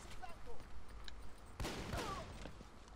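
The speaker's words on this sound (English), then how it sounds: "I just unloaded two magazines on him." Gunfire in the shooter game Army of Two: The Devil's Cartel, including heavy 50 caliber shots, comes as a sharp close burst about midway through, with sparse shots and game noise around it under a steady background.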